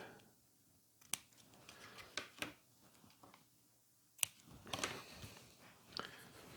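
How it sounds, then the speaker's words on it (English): Several sharp, crisp snips of fabric scissors at irregular intervals, close by, with quiet handling noise between cuts. "fabric scissors, you just snip that there."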